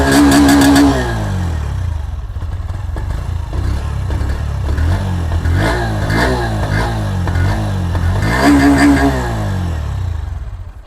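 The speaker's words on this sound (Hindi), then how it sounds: "सो ये है एग्जॉस्ट साउंड।" Bajaj Pulsar NS125 motorcycle idling close by with a steady, throaty exhaust burble, broken by a string of sharp throttle blips and a stronger rev near the start and again near the end.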